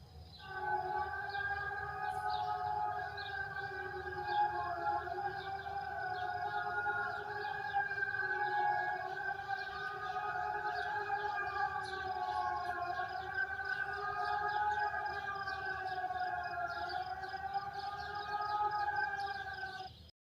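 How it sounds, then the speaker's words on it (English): A steady, sustained warning siren drones for the full duration, its layered tones holding level with slight wavering, loud and continuous with no voices. "The sound of the warning sirens may, to some people on first glance, seem a divisive way"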